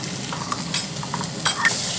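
Onions sizzling in a pan with green chillies, stirred now and then with a few soft scraping knocks over a steady low frying hiss, close and moderately loud with no talk.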